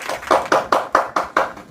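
Classroom of children clapping hands together in applause: eight sharp, evenly spaced claps in a quick steady rhythm, close and fairly loud, with no talking.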